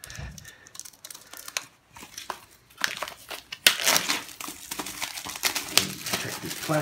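A blade slices open the plastic wrapping on a Protagonist Archive item, with close crinkling, crackling and tearing bursts that start sparse and then turn denser and louder after a short pause.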